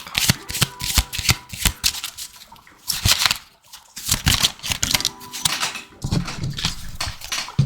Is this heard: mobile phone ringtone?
no